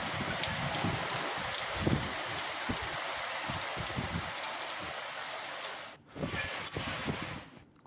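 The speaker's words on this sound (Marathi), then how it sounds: "परभणी जिल्ह्यामध्ये वादळी वाऱ्यासह विजेच्या कडकडाटासह पावसानं रात्री 12 वाजण्याच्या सुमारास हजेरी लावली" Steady rain with stormy wind at night during an unseasonal storm, a dense continuous hiss with scattered patters, briefly dropping out near the end before resuming.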